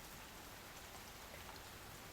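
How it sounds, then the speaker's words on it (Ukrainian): Steady rain falling, a dense, even hiss of drops spread across the whole band, continuous and moderately soft with no voices. "За вікном іде дощ."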